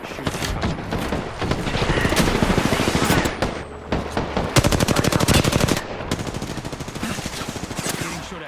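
Sustained machine gun fire in the Apex Legends shooter, dense overlapping automatic bursts from several weapons at close and middle range, loud and nearly continuous throughout with occasional heavier impacts.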